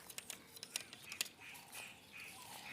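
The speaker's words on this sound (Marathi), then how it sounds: "आवाज पक्ष्यांचा" Sparrows chirping in the countryside: faint, scattered short chirps cluster in the first second or so, then thin out over a quiet open background.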